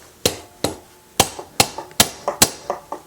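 Light hammer taps driving a pivot pin out of a Quadrajet carburetor during a rebuild, using a small Phillips screwdriver as a punch: about ten sharp, close metallic knocks in an uneven rhythm with short gaps.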